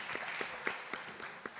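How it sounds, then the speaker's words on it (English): An audience applauds at an environmental justice conference, a moderate, fairly distant patter of clapping hands with a few sharper individual claps, faint voices underneath. "So y'all can clap for NC State folks"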